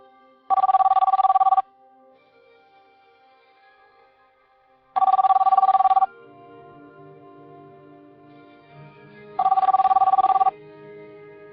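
A telephone bell rings three times in long bursts spaced several seconds apart, loud and close, with quiet room sound between rings.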